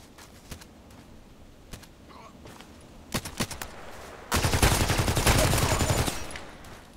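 Bursts of gunfire from the TKPD Storm in a shooting video game: scattered single shots, then a dense sustained volley lasting about two seconds, loud and close with no voices.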